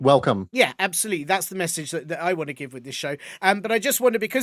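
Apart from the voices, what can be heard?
No distinct noise like a dog, phone or traffic.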